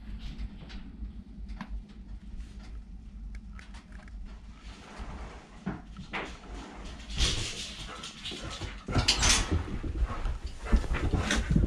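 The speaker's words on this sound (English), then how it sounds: "What you woofing at? Nothing's out there." A dog indoors near a wood stove gives low woofs and soft whimpers, fairly close and fairly quiet, with rustling that builds toward the end.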